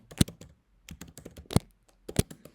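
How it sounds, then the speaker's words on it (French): Keys clacking on a computer keyboard, with three sharper, louder strikes standing out among lighter taps in an uneven rhythm, close and unaccompanied by voices. "J'appuie sur entrée pour aller plus vite."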